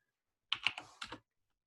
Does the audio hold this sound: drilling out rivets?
no